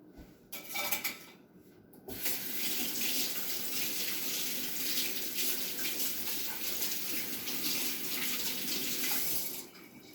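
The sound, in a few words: water running from a tap while washing hands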